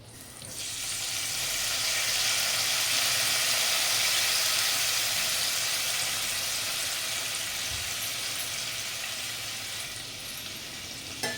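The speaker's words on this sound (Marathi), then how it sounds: "मस्त फोडणी झालेली आहे" Loud, steady sizzle of a Maharashtrian phodni, spices tempering in hot oil for a dish made from leftover rice, rising quickly and holding strong for several seconds before easing slightly, with no talking over it.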